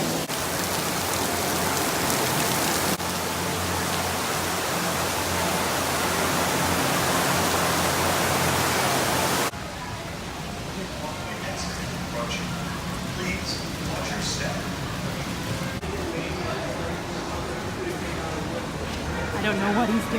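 Rain pours steadily outdoors as a dense, loud hiss for about ten seconds, then drops to a softer, patchier patter with scattered drips. Faint voices and movement come through under it.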